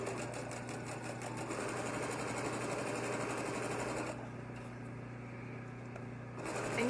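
A sewing machine runs steadily as it stitches a quarter-inch seam through a fabric face mask, a close, continuous mechanical whirr with a rapid needle rhythm that eases slightly near the end.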